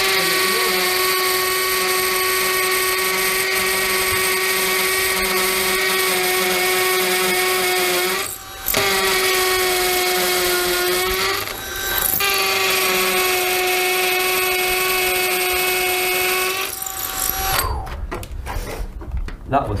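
A cordless drill, Milwaukee M18BPD or Dewalt DCD776, bores into hard material with a loud steady high whine, pausing briefly twice, then ends in clattering handling noise.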